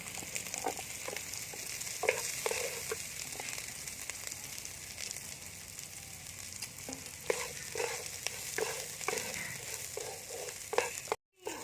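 Rice frying in a pan with cardamom and bay leaves for paneer pulao, a steady close sizzle with a run of scraping stirs and spatula clicks, then a sudden drop-out near the end.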